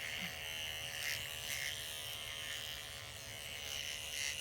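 A child's electric toothbrush hums with a steady, even buzz at close range during brushing in a children's dental setting, running without pause and with no talking.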